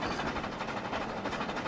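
A freight train on a branch line in Trainz Simulator 2019 runs steadily, giving a continuous close rumble with a rhythmic wheel clatter and no voices.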